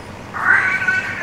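A single drawn-out cat meow in a video game, fairly loud and close, with a wavering pitch, rising and then trailing off.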